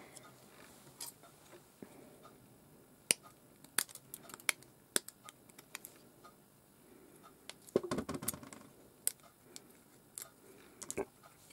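Scissors cut through card during card making, with scattered sharp snips and ticks and a short cluster of quick cuts midway, close and quiet against a faint room background.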